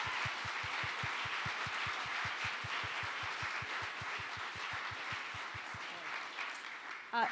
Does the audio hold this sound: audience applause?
yes